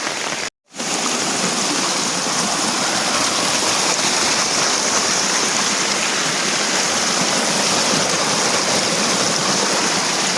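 Rushing floodwater pouring across a mountain road in Himachal, a loud, continuous roar close by that drops out briefly near the start and then runs unbroken, with no voices.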